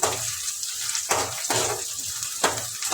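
Chopped onion with garlic sautéing in a pan for a garlic-chilli chutney, a steady bright sizzle with periodic scraping stirs about every second and a half, close and alone without voices.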